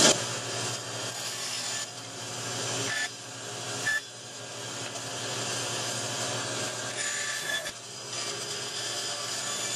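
A knife carves a deep finger groove into a wooden knife handle, making steady scraping and rasping cuts with brief pauses between strokes, close and fairly loud with no talking.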